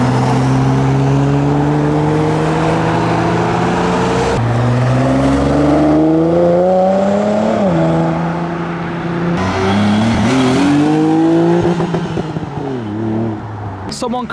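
Japanese tuner cars leaving Japfest 2023, the UK's biggest Japanese car show: loud, close engine drones rise through repeated rev sweeps and gear changes as cars pull away one after another, with a voice talking at times.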